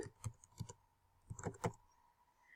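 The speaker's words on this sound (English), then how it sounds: "I'm going to type in submitted" Keys clatter on a computer keyboard in two quick bursts of typing separated by a short pause, close and fairly quiet, with no voices.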